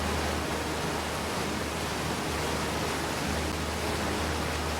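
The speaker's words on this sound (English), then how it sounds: "Waterfall noises are very nice." Steady, full-bodied roar of a waterfall in the video game Outer Wilds, a constant broadband rush of falling water with a low rumble underneath, heard alone and unbroken throughout.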